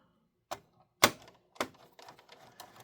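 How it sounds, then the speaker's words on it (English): Small laptop screws on a Dell Inspiron N7110 are turned backwards into their threads, giving three distinct close clicks followed by faint scratchy rattling. "I like to twist the screws backwards first to hear them click"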